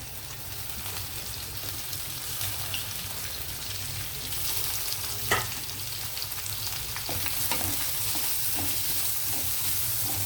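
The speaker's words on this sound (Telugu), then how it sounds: "ఈ ఉల్లిపాయలు కూడా కొంచెం కలర్ మారేటట్టు వేగనిద్దామండి" Onions sizzle and fry steadily in a pan for an Andhra ridge gourd prawn curry, a continuous crackling hiss with a few louder pops and stirs midway, with no one speaking.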